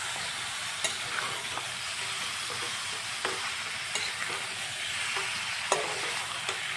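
Chicken curry frying in a pan while being stirred, a steady bright sizzle with intermittent scraping and clinking strokes of the utensil against the pan, close and continuous without talk.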